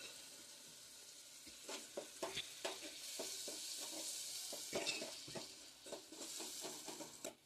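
Spices sizzle and fry in a pan while a utensil stirs them in repeated scraping strokes, close and fairly quiet, for making pudalangai kootu, with no talking.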